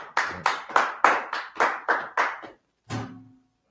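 A small group claps in a class gathering, about eight sharp, close, evenly spaced claps, a brief pause, then one last clap.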